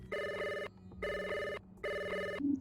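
A telephone rings three times in steady, evenly spaced bursts with short silent gaps between them, loud and close, alone with no voices, at a tabletop Blade Runner role-playing game session.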